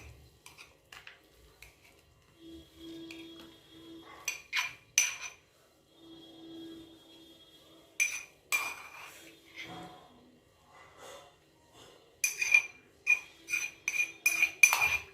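Spicy Maharashtrian green chili thecha spooned from a pan onto a plate, with a metal spoon repeatedly clinking and scraping against the pan and plate in irregular bursts, close up, with a faint background hum and no talking.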